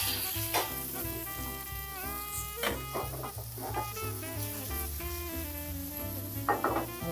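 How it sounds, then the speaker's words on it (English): Lemon-caper fish sears in a hot pan with a steady sizzle, partly masked by louder background music, and a few brief crackles stand out near the start and end. "Just looking for a nice golden sear on it."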